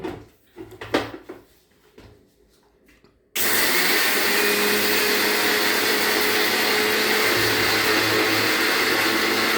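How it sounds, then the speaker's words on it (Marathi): A kitchen mixer grinder starts abruptly after a few quiet clicks and knocks, then whirs loudly and steadily for several seconds while finely grinding food. "आता हे मी मिक्सरमधनं बारीक करून"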